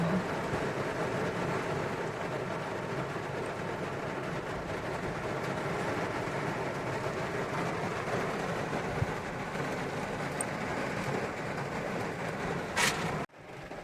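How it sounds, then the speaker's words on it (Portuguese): Heavy rain drums steadily on a pickup truck roof, a loud dense continuous patter heard from inside the cab for the whole stretch, briefly punctuated by a sharp knock just before it cuts off near the end. "vocês devem estar escutando o barulho, né, da água batendo aqui no teto da caminhonete"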